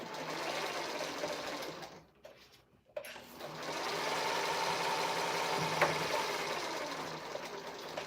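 Sewing machine running steadily to work oil through its mechanism, a close continuous whirring hum that briefly pauses and then resumes at an even pace.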